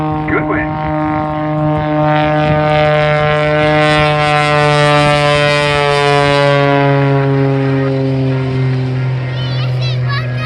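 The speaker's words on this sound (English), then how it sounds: "In the brand new aircraft, J-Pit, coming from the right hand side." A new aircraft performs a display at the Southport Airshow 2019, its loud, sustained propeller-like drone sweeping in pitch as it passes, with an announcer talking over it.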